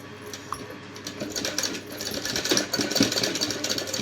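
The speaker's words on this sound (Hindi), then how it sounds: "बहुत ही फिनिशिंग के साथ ऐसे सिलाई लगा लेनी है।" Sewing machine stitching fabric, a continuous mechanical whirr that builds in speed and loudness, close by with no talk.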